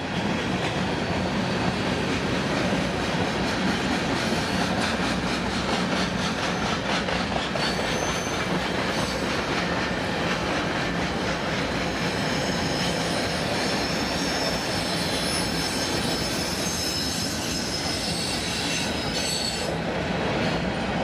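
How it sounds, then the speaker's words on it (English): Trains rolling past, a steady loud rumble of railcars with wheels clacking over the rails and high metallic squealing rising toward the end, continuous for about twenty seconds. "Get lots of trains in this video"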